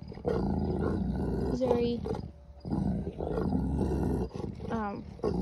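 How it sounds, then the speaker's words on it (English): Deep, rumbling growls from mastiffs resource guarding in a standoff rise and fall continuously, close and loud, with a brief spoken word and snarling bursts between them. "what a mastiff growl and guarding sounds like"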